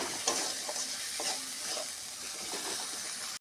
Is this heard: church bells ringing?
no